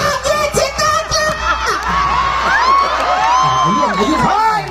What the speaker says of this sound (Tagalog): magpalakpakan po na may kasamang sigawan na nagsasabing pangit si Tekla!